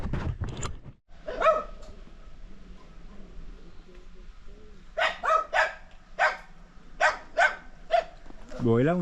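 A dog barks repeatedly in short bursts, a few early yaps then a run of evenly spaced barks, fairly close with faint outdoor background.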